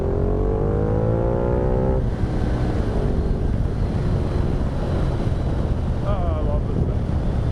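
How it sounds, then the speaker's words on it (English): Ducati Multistrada motorcycle in touring mode pulling hard under acceleration, its engine note climbing in rising harmonics for two seconds before shifting, loud and continuous against heavy wind rush. "I love the torque of this bike. It has so much torque."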